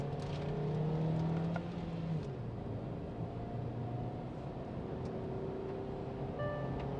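A Hyundai Exter's engine pulls steadily on a highway in manual mode with paddle shifters, a continuous hum whose pitch rises and then steps down around a gear change, with road and wind roar underneath.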